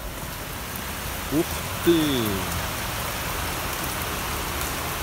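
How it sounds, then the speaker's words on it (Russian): Steady rain patters and hisses throughout in Venice's Cannaregio district, with a person briefly exclaiming partway through. "Сегодня в Венеции идет дождь."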